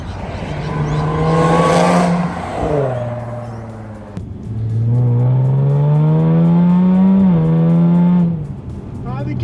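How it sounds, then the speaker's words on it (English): A Jaguar XE S accelerates hard, its engine note climbing steadily and then dropping sharply at each upshift, twice in quick succession, before pulling strongly again and easing off near the end. "The gear shifts going up are pretty decent."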